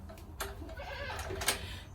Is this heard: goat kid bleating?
yes